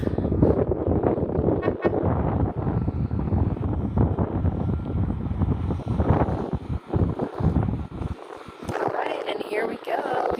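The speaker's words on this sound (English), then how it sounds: "And then the wind blows it away." Wind buffets a microphone beside San Diego Bay at Shelter Island, making a loud, continuous low roar that eases somewhat toward the end.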